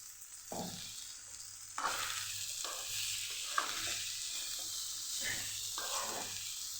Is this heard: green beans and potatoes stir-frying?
yes